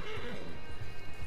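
Horse whinnies and hoofbeats in the Red Dead Redemption Online video game, a near, continuous neigh over rhythmic clip-clop of galloping, all within a brief burst.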